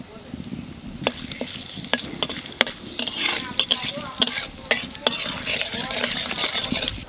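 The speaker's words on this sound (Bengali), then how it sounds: "তেলের মধ্যে দিয়ে দেবো জিরে আর তেজপাতা, আর দেবো লং, দারচিনি," Cumin seeds, bay leaves, cloves, cinnamon and cardamom sizzle in hot oil for a Bengali duck curry, a busy crackling hiss punctuated by sharp metallic clinks and scrapes of a stirring spoon against the pan, close and fairly loud.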